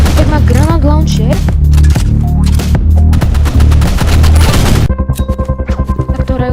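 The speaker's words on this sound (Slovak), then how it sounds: "Granát launcher." Loud weapon fire from a grenade launcher in the Roblox game Rivals: dense bursts of shots and booms over game music, then a rapid run of evenly spaced shots near the end.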